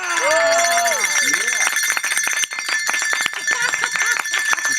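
Small bells jingle in quick, repeated metallic clinks on a talk radio show. A voice sounds over the start and the jingling goes on steadily and close.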